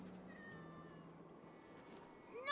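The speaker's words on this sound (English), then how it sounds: "What a handsome cat." A cat in the video game Assassin's Creed Valhalla lets out a faint, drawn-out meow over a quiet background, ending in a brief louder rising call.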